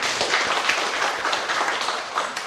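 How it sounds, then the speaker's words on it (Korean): Audience applause breaks out at a church symposium marking a Christian newspaper's anniversary. The clapping is dense and even, fairly loud, and runs for a couple of seconds. "우리 네 분께 크게 감사의 박수 한번 드립니다"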